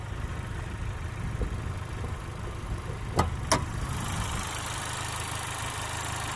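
A 2020 Honda Civic Type R's 2-liter turbo engine idles with a steady low rumble, heard close with the hood open, broken briefly by two sharp clicks midway before a brighter hiss takes over.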